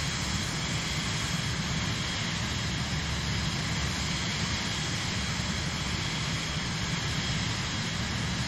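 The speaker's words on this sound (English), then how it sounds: "There's a airplane over there." A steady, unbroken airplane engine drone from the Microsoft Flight Simulator video game fills the cabin, constant and even in loudness throughout with no voices over it.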